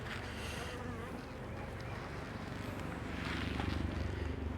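Honeybees from an open beehive hum in a steady, dense drone, loud and close, swelling slightly toward the end, with no voices over it.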